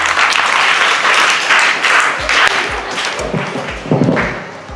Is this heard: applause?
yes